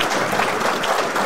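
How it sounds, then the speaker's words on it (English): Loud, dense audience applause at a 2022 graduation ceremony, a continuous wash of many hands clapping with no break. "can we get a round of applause"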